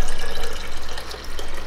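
Liquid whey is poured into a container, making a steady close splashing and trickling stream that runs without a break and briefly eases near the end, with no talk over it.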